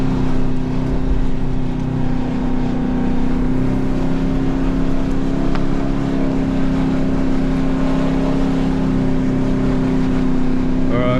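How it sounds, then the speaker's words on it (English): Car engine straining while driving on soft beach sand after a storm, a loud sustained drone that holds a steady pitch as the wheels lose traction and slide sideways, close and continuous without talk. "Alright, we're just eating power, losing power, going sideways. The only option is to let the car drift down."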